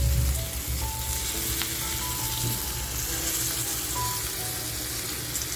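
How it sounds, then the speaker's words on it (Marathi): Boiled fish roe (gaboli) frying in hot oil, a dense continuous sizzle and crackle filling the whole stretch at close range, steady and loud without pauses. "आता आपण एक एक टाकूया कारण तेल बघा छान तापले."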